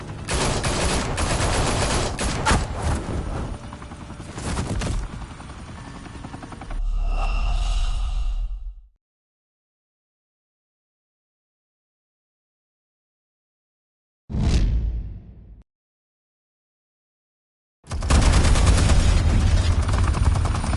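Sustained bursts of gunfire from a Batman video game, loud and dense for several seconds, followed by a short blast, silence, a brief crack, then another heavy volley.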